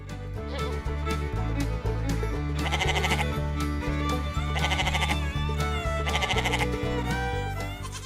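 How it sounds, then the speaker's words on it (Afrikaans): A goat on a farm bleats repeatedly and loudly in wavering, tremulous calls, set against steady background music with no talking. "Hierdie is 'n bok."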